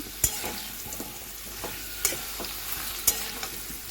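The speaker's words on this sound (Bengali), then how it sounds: "এরপর আলুটা এরকম ভেজে নেবেন।" Potatoes frying in a pan, a soft background sizzle broken by sharp scraping knocks of a spatula stirring at irregular intervals, fairly close and quiet overall.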